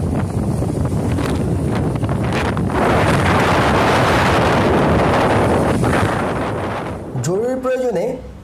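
Strong gusty wind over the rough Padma River near the Padma Bridge makes a continuous loud roar and buffeting that eases slightly near the end, where a few brief voice-like sounds appear.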